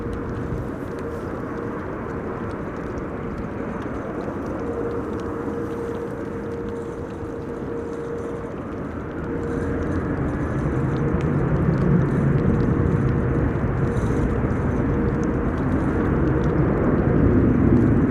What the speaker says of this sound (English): Would you like some reverser with that landing?